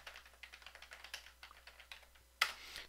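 Light, rapid keystrokes on a computer keyboard while a Korean document is typed, a quiet, fairly even patter of taps ending with one sharper, louder key press.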